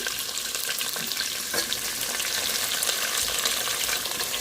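Onions and green chillies fry in hot oil for a radish sambar, giving a steady, close, continuous sizzle with faint crackles throughout and no talking.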